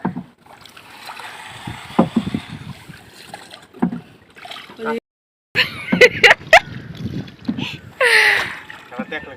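A small boat ride out on the water, with splashes and gusts of wind noise against the microphone while people talk nearby, punctuated by a brief dropout midway.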